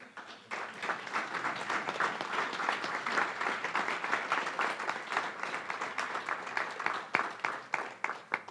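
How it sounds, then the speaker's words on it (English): A conference audience claps for Principal Miguel Boleo, the applause starting abruptly and continuing as a full, even patter of many hands with slight swells. "Ladies and gentlemen, a big applause for Principal Miguel Boleo"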